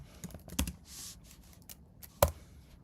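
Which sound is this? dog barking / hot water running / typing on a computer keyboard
typing on a computer keyboard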